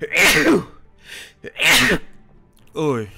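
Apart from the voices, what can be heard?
sneeze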